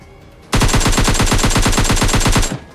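Rapid automatic gunfire in PUBG Lite, a loud, steady burst of about twenty evenly spaced shots lasting roughly two seconds, then cutting off.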